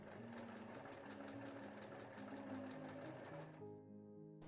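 A sewing machine stitches a small cord bag with a steady, fast, rhythmic mechanical whir that runs close and continuous, then cuts off near the end, leaving a brief low hum.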